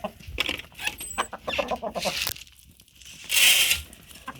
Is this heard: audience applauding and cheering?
no